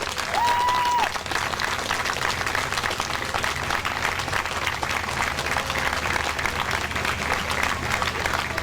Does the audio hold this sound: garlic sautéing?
no